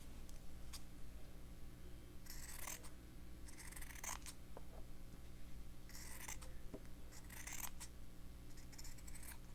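Scissors snip through fabric while a tree shape is cut for a Christmas slow-stitching fabric book, a series of crisp rhythmic cutting strokes close up in bursts over a steady low background hum.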